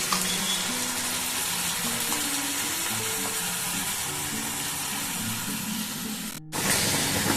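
Mashed poppy seed paste goes into potatoes and onions frying in a pan, bringing a steady, close sizzle with soft scraping and stirring, then a brief break and the frying resumes.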